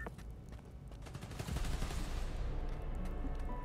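Rapid automatic gunfire in Spider-Man: Miles Morales rattles in a dense, continuous fusillade that swells louder midway and stays steady to the end, with no voices over it.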